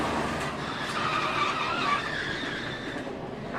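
Race cars crash at Daytona, a loud, washed-out roar of engines and scraping impact noise with tire squeal, heard from a distance and steady throughout.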